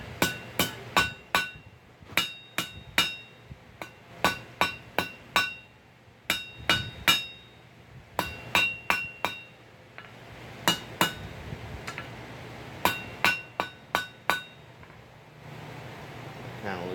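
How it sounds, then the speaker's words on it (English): Sharp metallic hammer blows on hot steel while forging tongs ring out in quick bursts of three to five strikes, separated by short pauses, close and loud with a bright clanging tone. "I'm going to hammer that over the edge."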